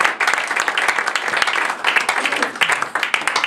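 A church congregation claps and cheers for the Lord in a steady, dense burst of applause that rises and falls over several seconds, close and loud, with voices mixed in.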